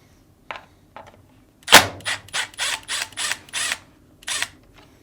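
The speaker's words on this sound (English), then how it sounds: "remove the screw, securing the lid lock to the top cover." A screw is backed out of the lid lock on a Fisher & Paykel washing machine top cover, heard as a few sharp close ratcheting clicks from a screwdriver followed by a run of quicker mechanical ticks, with no voices.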